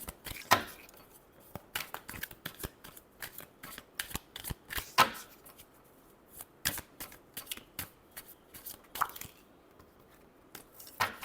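Tarot cards riffled and shuffled by hand, a series of sharp, close flicking bursts spaced irregularly across a quiet background, with no talking.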